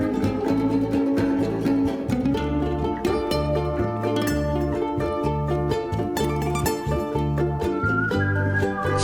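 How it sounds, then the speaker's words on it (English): A melodic whistled tune rises and falls over a steady, rhythmic ukulele orchestra accompaniment, loud and continuous. "Very cool whistling. I'm going to back up and we'll hear the whistling again."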